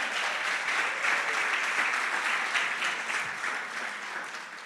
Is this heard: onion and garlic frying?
no